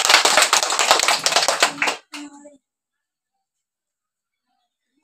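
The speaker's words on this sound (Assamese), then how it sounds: "হাত চাপৰি দিয়া" Schoolchildren in an Assamese classroom clap their hands together in a quick, loud, rhythmic burst for about two seconds, then a brief voice and silence follow.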